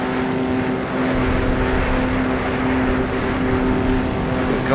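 A steady racing car engine drone from a video game racing simulation set at the 1937 AVUS race, with a constant tonal hum holding level throughout, a continuous motor sound with no talking.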